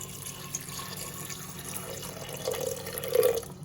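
Water pours into a pressure cooker of green gram for a home-style stew, a soft trickling stream that swells and splashes louder toward the end, close by and without speech.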